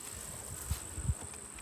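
Honey bees buzzing faintly around an open beehive outdoors during honey harvesting, a soft steady drone with a few low thumps and handling noises close by.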